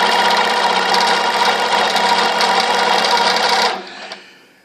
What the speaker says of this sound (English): I'm going to sew with it again and see if it fixed it